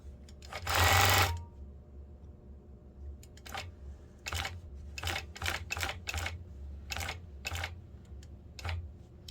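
A longarm quilting machine stitches a quilt in free-motion work, one loud whirring burst followed by short, quieter runs of rapid needle stitching separated by brief pauses.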